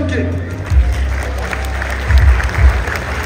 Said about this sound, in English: please give a round of applause to my man,